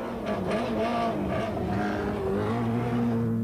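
Rally car engine revving hard on a British Rally Championship stage in 1998, a loud, continuous snarl rising and falling in pitch with gear changes, close and alone.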